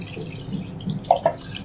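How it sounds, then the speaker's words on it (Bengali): Hilsa fish being rinsed clean under running tap water, a steady close hiss of flowing water with a couple of brief splashing drips. "এখন আমি এটাকে পরিষ্কার করে ধুয়ে নিচ্ছি।"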